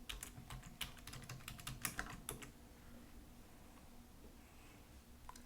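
Rapid tapping on a computer keyboard as an email and password are typed in, a close burst of crisp keystrokes for about two seconds, then quiet room tone.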